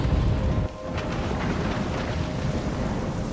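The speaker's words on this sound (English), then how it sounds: "I'm trapped in a storm?" Stormy weather in the video game Life Is Strange: a loud, steady roar of wind and rumbling low noise fills the whole stretch, with a brief dip early on before the blustery wash resumes, no voices present.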